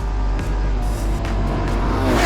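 A Ferrari 812 Superfast V12 in race mode roars loud and close, a dense, sustained engine drone heard from inside the car as it accelerates hard.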